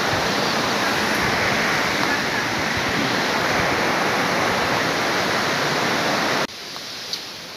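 Daranak Falls pours in a dense, steady roar of falling water heard up close, then abruptly drops to a quieter background rush near the end.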